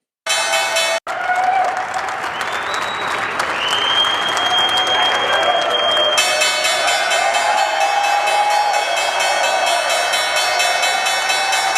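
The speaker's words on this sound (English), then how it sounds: "The crowd screaming, USA" A crowd on the New York Stock Exchange trading floor cheers, claps and chants USA for President Trump's opening bell, a loud sustained roar of applause that cuts out for a moment near the start, with voices mixed in.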